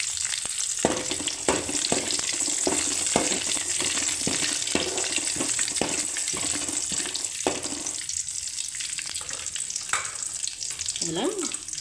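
Fennel seeds, curry leaves and cinnamon sticks crackle and sizzle in hot oil as a base for tomato kurma, a steady close frying hiss broken by sharp spattering pops and a few spoon scrapes against the pan.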